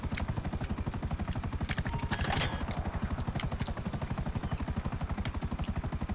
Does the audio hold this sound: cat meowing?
no